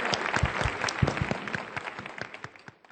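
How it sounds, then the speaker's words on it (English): Audience applause welcoming a state governor at a formal event, brisk clapping with distinct individual claps near the microphone, thinning and fading out over about three seconds. "please give a warm round of applause to welcome the Honorable Governor of the State of Veracruz."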